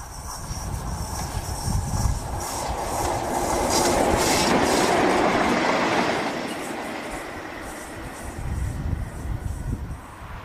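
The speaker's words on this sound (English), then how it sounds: "37-264 enjoys a rare trip on mainline rails as it's taken from the Moors to Leeds for tyre turning" A Class 37 diesel locomotive, 37-264, rolls along mainline rails with a steady rumbling engine, rhythmic clickety-clack of wheels over rail joints and faint wheel squeal, swelling louder as it passes close by.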